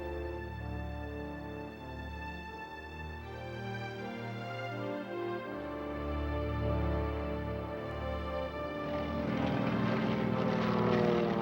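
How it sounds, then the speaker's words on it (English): Several WWII-era propeller bombers run up their engines on the airfield before taking off at two-minute intervals, a loud, continuous droning roar of many piston engines with steady harmonic tones that swells toward the end. "As the last planes in each group prepare to take off at 2-minute intervals"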